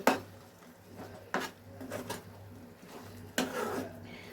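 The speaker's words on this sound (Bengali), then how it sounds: "দিয়ে এবার সবগুলোকে একসাথে নাড়তে থাকবো" A spoon clatters and scrapes against a pan while mashed cabbage bhorta is stirred, a few sharp metallic knocks at irregular intervals over a quiet background.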